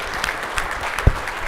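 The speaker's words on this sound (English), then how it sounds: "Again, another applause for Tio and Pudge." An audience at a mortgage business technology event breaks into applause, a dense continuous wash of clapping with a few louder individual claps standing out.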